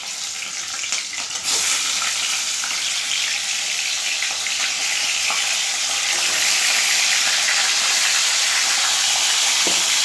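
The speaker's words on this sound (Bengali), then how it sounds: "এই চিকেনটা আমি 5 মিনিট একটু ভাজা ভাজা করব।" About 750 grams of spiced chicken frying in a pan, a loud steady sizzle that jumps up after a quieter first second and then hisses on evenly throughout, close by with no talking.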